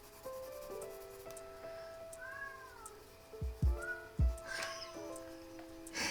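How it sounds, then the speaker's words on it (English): A cat meows at a door wanting to be let in, several short rising and falling meows at moderate distance over a quiet indoor room, with a few soft bumps. "but my cat wants in"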